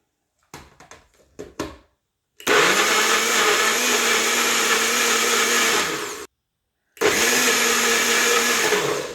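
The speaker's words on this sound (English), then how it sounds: "You want to blend your smoothie until it's nice and smooth, but it's going to be loud" A blender whirs loudly in two long runs with a short pause between, blending a fruit smoothie, after a few brief clatters at the start.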